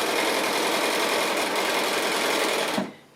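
A sewing machine runs steadily, stitching the seam of a simple square pin cushion, a continuous close mechanical whir for nearly three seconds before it stops abruptly.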